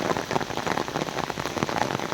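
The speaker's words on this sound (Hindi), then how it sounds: "मूसलाधार बारिश हो रही है" Torrential rain pours down over a lake at Nainital, a dense, steady patter of drops on water and surfaces that stays loud and unbroken throughout.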